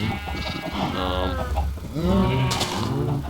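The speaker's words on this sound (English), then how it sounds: "Little baby cows, little baby sheep." Sheep bleating in Minecraft, several wavering baby-sheep and adult calls in quick succession, loud and close with no talk over them.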